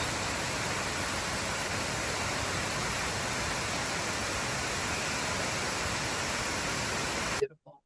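Steady broadband roar of one of the many waterfalls in Croatia, continuous and fairly loud without a break for most of its length, then cutting off abruptly near the end.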